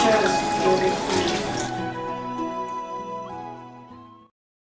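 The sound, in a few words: running water washing vegetables for efo riro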